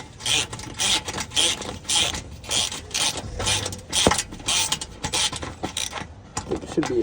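Ratchet loosening a bolt during an oil change, giving a series of quick rhythmic clicking bursts in short repeated strokes, close by, with a brief metallic knock partway through.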